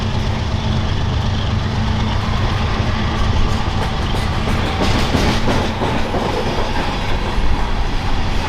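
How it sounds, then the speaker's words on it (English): A westbound BNSF grain train passing near Chinook on the northern Transcon, loud and close, with continuous rumble and rhythmic clickety-clack of wagons rolling by. "we found a not-so-tied-down westbound grain train"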